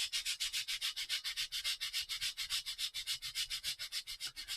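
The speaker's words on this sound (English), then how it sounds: "we can just sand in, and again getting rid of those" Sandpaper rubbing back and forth over cured CA filler, a steady run of about thirty quick, even strokes, close and loud, with no voices.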